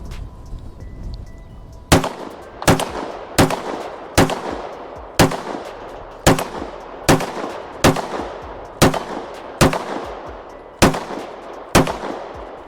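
Pistol fitted with a red dot optic fired at steel targets, about ten sharp shots in a steady rhythm roughly one per second, each loud crack followed by a brief ring and echo, with no talking.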